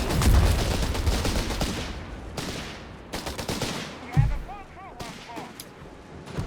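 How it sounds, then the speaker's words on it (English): Gunfire and rifle grenade launches in Company of Heroes 3, loud bursts of shots and blasts clustered early and again around the middle, with a sharp thump later amid game battle noise. "Rifle grenades keep getting launched here with the grenade launcher"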